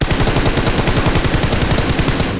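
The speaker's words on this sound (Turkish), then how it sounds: "üstümüzden sıkıyorlar bu arada" Rapid automatic gunfire from PUBG Mobile rattles continuously in a loud, dense burst of evenly spaced shots that fills the whole moment, with no speech over it.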